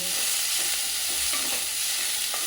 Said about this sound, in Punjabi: ਆਪਾਂ ਨੇ ਤੜਕਾ ਵਗੈਰਾ ਭੁੰਨ ਲੈਣਾ